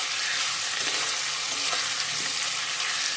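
Potatoes tossed with spices in a frying pan, a loud, continuous close-up sizzle with the steady rustle of stirring throughout.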